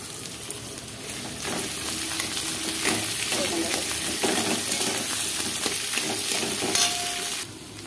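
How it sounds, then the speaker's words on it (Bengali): A spatula scrapes and breaks up boiled potatoes frying with onions in a pan, producing continuous sizzling with repeated stirring scrapes at close range and no talking. "আলুটা এবার কী করবো, খুন্তির সাহায্যে ভেঙে ভেঙে দেবো।"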